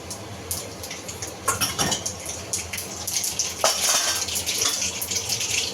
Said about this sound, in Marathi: राई छान तडतडला पाहिजे।